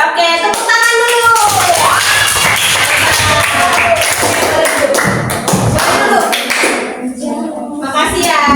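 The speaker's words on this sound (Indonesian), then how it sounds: "Oke, tepuk tangan dulu." Children clapping their hands in an elementary school classroom, loud and close, with kids' voices calling out over the clapping throughout.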